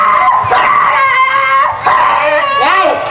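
A female dog whines and howls nearby in loud, drawn-out, wavering cries, with a short yip in the middle, a brief pause, then rising and falling whimpers.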